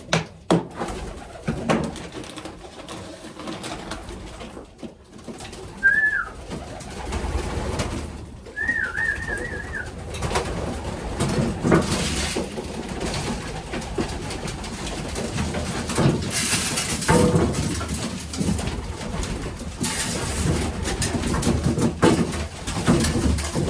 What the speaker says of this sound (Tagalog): Papakainin ko yung mga kalapati ko.